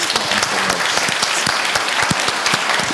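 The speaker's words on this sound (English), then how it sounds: "Please give our panelists a round of applause." Steady applause from an audience fills the whole stretch, dense clapping with no pauses and no talking over it.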